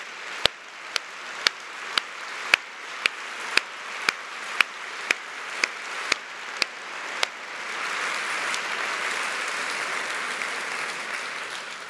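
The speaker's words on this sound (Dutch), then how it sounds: "Ik zou eigenlijk graag een apart applaus voor hen willen." University ceremony audience applauding staff at Radboud University's 100th Dies Natalis, beginning with slow, evenly spaced single claps that then break into a broad, continuous round of applause from the room.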